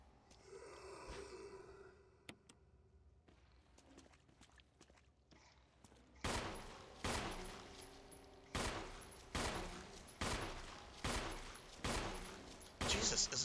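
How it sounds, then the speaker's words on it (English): Gunfire in the Resident Evil Remake video game: after a stretch of quieter game sounds, about eight loud, sharp shots ring out one after another at a steady pace, each with a brief ringing tail. "The guy took fucking 12 shots."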